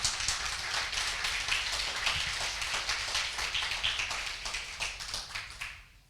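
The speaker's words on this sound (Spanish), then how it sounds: "Y dan un fuerte aplauso a nuestro Dios." A church congregation bursts into dense, sustained applause, many hands clapping at once from a moderate distance before the sound fades out at the end; no voices stand out.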